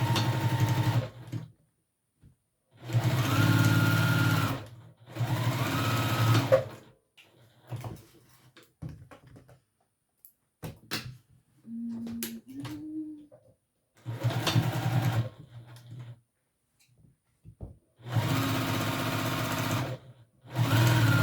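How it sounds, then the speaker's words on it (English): A sewing machine stitches the top of a fabric piece at a short stitch length in loud close bursts of a few seconds each, separated by pauses with small handling clicks and rustles; no talk. "And then we're only going to stitch the top"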